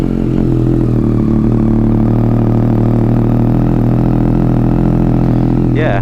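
A Yamaha Tracer 9 motorcycle fitted with an Akrapovic exhaust, baffle removed, runs at a loud, steady idle close by, its deep drone holding constant throughout.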